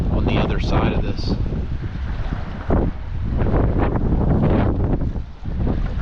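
Strong wind buffets the microphone in rough, continuous gusts while fishing on the water, a loud low roar with splashy water noise underneath.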